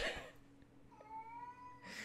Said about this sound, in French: je sais pourquoi qu'il miaule